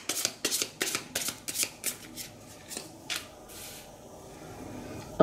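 A deck of tarot cards is shuffled by hand nearby, a rapid run of crisp riffling bursts that slows and thins out toward the end.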